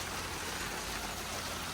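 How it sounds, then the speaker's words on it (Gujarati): Heavy rain pours steadily outdoors in London, a dense, even hiss of drops on surfaces that fills the whole moment without pause or voices. "પણ મસ્ત વરસાદ પડી રહ્યો."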